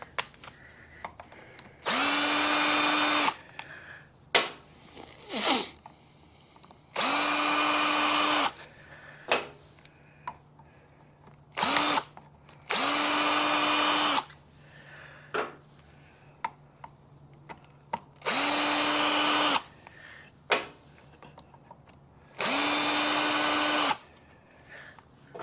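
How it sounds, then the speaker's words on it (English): A drill motor runs in repeated short bursts of about a second each while working on the clutch of a 1973 ATMX kicker, with clicks and handling noises between the whines. "drill motor."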